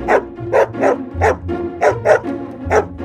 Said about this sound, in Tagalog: Tahol ni Aso